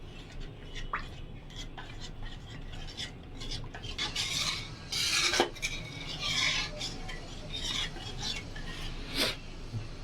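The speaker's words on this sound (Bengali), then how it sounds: "জল দিয়ে আবার ভালো করে নাড়িয়ে নেব।" A spoon scraping and stirring through curry in a pot after water is added, while making doi rui fish curry; intermittent close rasping strokes and clinks, fairly quiet, with no talking.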